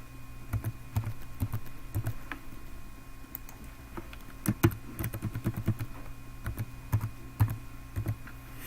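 Password keys typed on a computer keyboard during a Windows Server 2012 R2 setup, with irregular bursts of close, crisp key clicks and short pauses between them and no talking.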